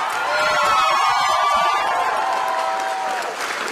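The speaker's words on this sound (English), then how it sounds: "Give him a big round of applause, guys" Crowd applause and cheering fill a fight event hall at X-1's Battle at the Barracks, a dense, steady roar of clapping and whoops with a few sustained tones running through it for several seconds.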